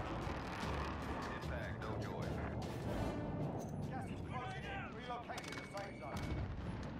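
Bursts of automatic gunfire and other weapon shots in Call of Duty: Warzone, repeated loud cracks throughout, mixed with players talking over the game sounds.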